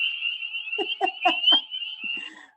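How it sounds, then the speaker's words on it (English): American toad calling, a long sustained high trill running throughout at close range, with a few low croaking pulses from other frogs beneath it. "American toad."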